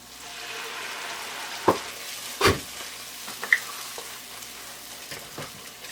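Onion and tomato paste sautéing in a hot pan with a soft, steady sizzle and a few sharp clinks and scrapes of a spoon stirring.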